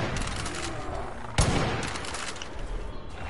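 Gunfire while shooting at Bigfoot in the video game Far Cry 5: a dense, noisy crackle of shots with one sharp, heavy report standing out midway, all over constant loud background din.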